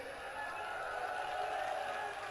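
A large audience at a Rajasthan election rally applauds, and the clapping merges into a continuous, even, distant-sounding roar that lasts the whole moment without pause.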